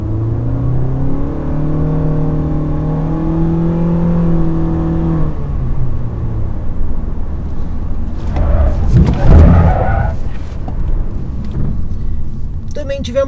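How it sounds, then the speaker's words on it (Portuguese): Honda HR-V driven through a handling test in Sport mode, its engine droning and rising in pitch before a rougher burst of road and tyre noise, heard from inside the car. "Agora vamos fazer o teste aqui com o Honda HR-V"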